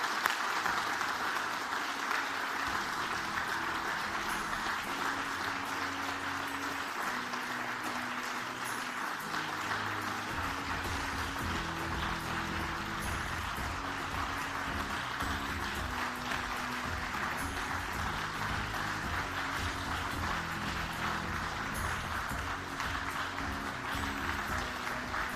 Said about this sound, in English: I told you there was a lot of clapping to do.